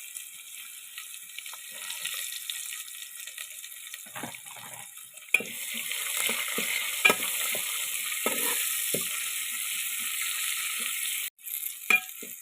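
Onion, ginger, green chili and curry leaves hit hot oil with popping mustard seeds, setting off a loud, continuous sizzle that swells midway, with occasional stirring clinks.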